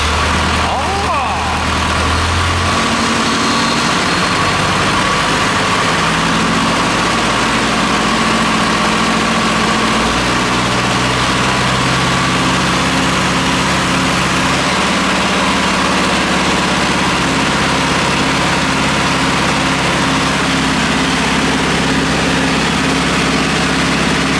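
A diesel tractor engine idles at about 850 rpm, a loud, steady low rumble that runs unbroken and close for the whole stretch.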